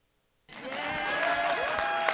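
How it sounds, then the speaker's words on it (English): Audience applause breaks out suddenly after near silence at a university gathering, a dense, steady wash of many hands clapping that holds evenly to the end. "You're supposed to clap."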